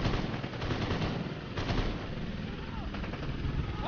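Rapid machine-gun fire in Rambo: The Video Game, set in Vietnam, rattles continuously with overlapping bursts under a low helicopter-like rumble, loud and close, with voices faintly mixed in.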